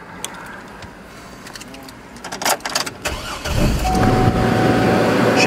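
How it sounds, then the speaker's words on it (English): A 2002 GMC Envoy SLE cranks with a short burst of uneven starter whirring, then catches and settles into a steady, close engine idle that holds to the end. "Let's go ahead and put the key in and crank her up."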